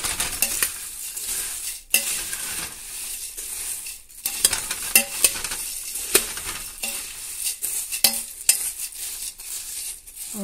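Chivda snack mix is stirred in a pan, with irregular scraping strokes, light clinks and a soft sizzle close by, repeating unevenly throughout.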